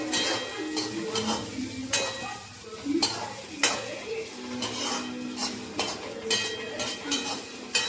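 Tomato gravy cooking in a pan for tava bhindi masala, with a soft sizzle under repeated scraping and clinking of a metal spoon against the pan in an irregular rhythm, close by.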